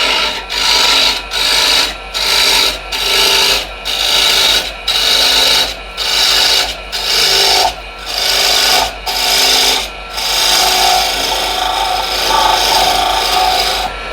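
A woodturning tool scrapes wood on a spinning lathe as shavings fly off, heard as a loud, continuous rasping in repeated pulsing passes over a low motor hum, with no talking.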